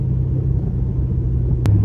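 A Saturn Sky fitted with a new LS3 crate motor pulls hard, its deep, steady engine rumble filling the short stretch up close, with a brief click near the end.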